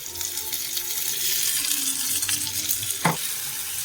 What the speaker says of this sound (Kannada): ಮಸಾಲೆನ ಚೆನ್ನಾಗಿ ಮಿಕ್ಸ್ ಮಾಡ್ಕೊಂಡು ಮಸಾಲೆ ವಾಸನೆ ಹೋಗೋ ತನಕ ಇದು ಮಾಡಿ ಫ್ರೈ ಮಾಡ್ಕೊಳ್ತೀವಿ